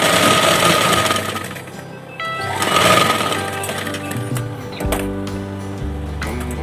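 A sewing machine stitches a bias strip onto a stone-work blouse neckline, a close rapid mechanical whir in bursts that pause and restart, with some handling knocks.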